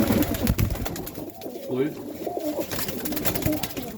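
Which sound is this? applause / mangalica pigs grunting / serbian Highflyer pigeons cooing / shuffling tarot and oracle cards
serbian Highflyer pigeons cooing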